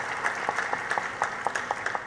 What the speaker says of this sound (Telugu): గట్టిగా క్లాప్స్ కొట్టాలి మీరు బాగా